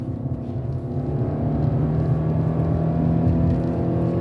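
Modern car with a CVT transmission accelerating hard at full throttle, a loud, steady engine drone close by that rises gradually in pitch and volume, with no voices over it.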